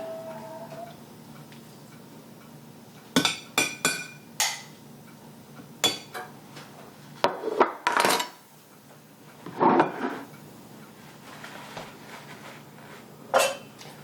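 Dishes and cutlery clink and clatter while green beans are served onto a plate beside meatloaf and baked potato, a scattered series of sharp, close taps and knocks with quiet pauses between them.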